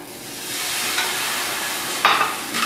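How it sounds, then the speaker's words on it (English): Vodka poured into a pan of browned garlic, setting off a loud, close hissing sizzle that swells and flares sharply near the end. "So I'm gonna add in my vodka."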